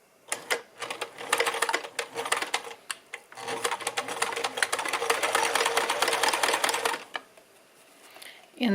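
A sewing machine stitches down the edge of a Christmas stocking, a few short bursts of rapid needle clatter followed by a long steady run of stitching, close and clear, stopping near the end.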